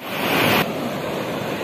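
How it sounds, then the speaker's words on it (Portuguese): The Paraíba River in high flow rushing over rocks makes a steady, broadband roar close by, louder for the first half-second and then settling into an even wash. "barulho da água nas pedras"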